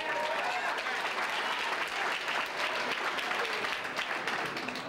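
Applause at a 1991 meeting, a dense, steady clatter of many hands clapping from a roomful of people, sustained at even loudness for the whole stretch with no talk over it.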